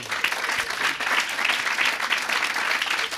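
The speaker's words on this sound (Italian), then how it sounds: "non per interrompere il vostro applauso" Steady, full audience applause at a stand-up comedy show, dense clapping that holds at an even level throughout.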